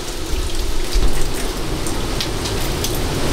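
Steady rain falling hard and close on a cruise ship at sea, a dense continuous patter on surfaces with no pauses.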